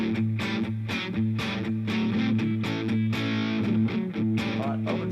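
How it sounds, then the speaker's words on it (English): Electric guitar played through a distortion pedal, thick driven chords with sharp rhythmic strums and sustained, gritty harmonics, loud and alone. "Let's go to distortion pedal on."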